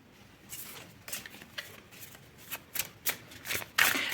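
Tarot cards being shuffled and flicked in a series of short papery bursts, close by and fairly quiet, with brief pauses between handfuls.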